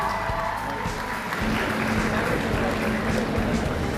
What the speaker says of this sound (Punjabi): ਤੁਹਾਡੀਆਂ ਭਰਪੂਰ ਤਾੜੀਆਂ ਦੀ ਗੂੰਜ